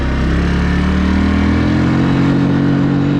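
A 2008 Yamaha Wolverine 350 four-wheeler engine drones steadily while riding along a road, a close, continuous mid-pitched hum with slight shifts in pitch and no talking.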